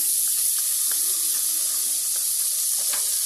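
Butter melting in a hot pan for soya bean chaat hisses with a steady, close sizzle throughout, broken by a few faint scrapes and clicks.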